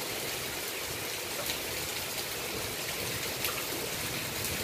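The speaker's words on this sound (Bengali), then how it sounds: "বৃষ্টি পড়ছে" Steady rain falls outdoors in a dense, even hiss of drops striking surfaces, constant and fairly loud from start to finish with no voices.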